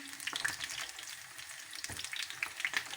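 Eggplants fry in hot oil in a pan, giving a steady close crackling sizzle with bright popping spatters and the occasional stir, and no voices over it.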